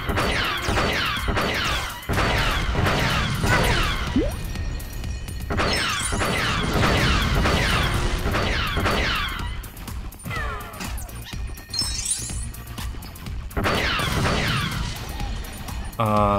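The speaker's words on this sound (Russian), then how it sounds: "мы разбили в поле много цветочков" Objects smashing in the Lego Star Wars: The Complete Saga video game, a rapid series of loud cracks and crashes in bursts with coin-like jingles, while players talk over it.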